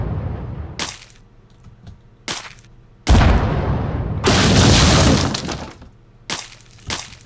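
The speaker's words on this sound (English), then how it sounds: "I mean, it's an explosion, it'll help," An explosion in the Burrito Bison video game, with loud bursts of crashing, shattering blasts in several hits, including one long roaring burst, all heard without talk.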